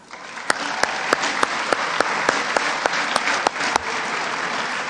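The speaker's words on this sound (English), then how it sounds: "please give a round of applause to Khalees Johnson and the entire committee again for tonight." An audience at a school boosters award ceremony applauds, a dense, loud, steady wash of clapping with a few sharper individual claps standing out.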